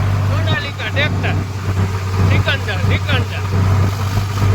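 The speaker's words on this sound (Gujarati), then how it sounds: "સોનાલિકા ટ્રેક્ટર" A Sonalika tractor engine runs as a loader at night in a village farm setting, giving a steady low, droning hum throughout while people talk over it.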